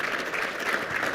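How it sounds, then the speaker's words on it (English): Audience applause for a panel at an economy discussion event, a steady dense wash of clapping filling the short moment at moderate loudness, with no break in it. "Let's give them a round of applause"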